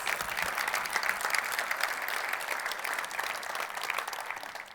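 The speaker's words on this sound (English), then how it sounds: "So give them a round of applause." Conference audience applauds at a tech event in Iceland, with dense, steady clapping from a large crowd filling the room and sustained throughout.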